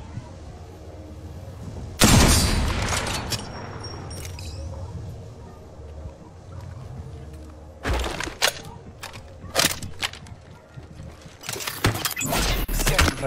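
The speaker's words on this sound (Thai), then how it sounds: "เฮ้ยมันยิงพี่แล้วมันยิงพี่แล้ว" Gunfire bursts in the Apex Legends battle royale game, loud sharp volleys at the start, then several clustered cracks and a final dense burst, with a voice talking over parts of it.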